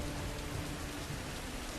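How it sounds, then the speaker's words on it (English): Heavy rain pours steadily in the Tomb Raider video game, a dense, even hiss of downpour close around the listener with no breaks, loud and continuous throughout. "This is a heavy rain right now."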